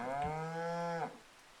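A single long cow moo from a farming sim game, clear and close, lasting about a second before cutting off into quiet background.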